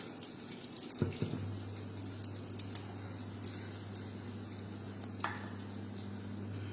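Cashews roast in a pan with a faint, low sizzle over a steady hum, broken by a couple of soft knocks near the start and one more later.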